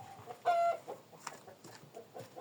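A crested, bearded hen clucks softly in a coop during the evening egg collection, with one sharper squawk and several faint low clucks.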